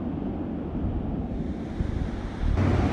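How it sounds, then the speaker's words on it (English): Pacific surf along the Big Sur coast makes a steady, broad wash of noise, heard from a distance and mixed with rumbling wind buffeting the microphone, with a louder surge near the end. "This is as close as it's gotten to the ocean this whole trip so far."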